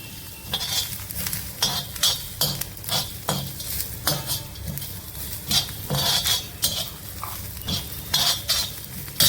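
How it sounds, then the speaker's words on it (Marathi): Lentils stirred and sautéed in a pan with browned chopped onion and cumin, giving a steady sizzle with repeated scraping and clinking of a spoon against the pan, close and continuous. "कांदा चांगला ब्राऊन होत आलाय त्याच्यातच ही मी डाळी टाकते त्यांना परतून घेऊया"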